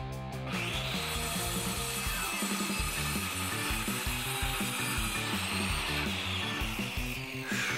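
Wooden boards being sawn, loud continuous rasping strokes that rise and fall in a steady back-and-forth rhythm, with no talk.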